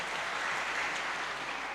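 Steady, dense applause from a conference audience, loud and continuous throughout with no pauses or voices standing out.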